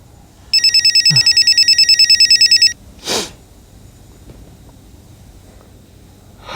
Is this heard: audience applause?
no